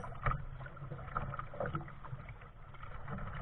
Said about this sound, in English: The current was pushing against us as we paddled toward the bridge.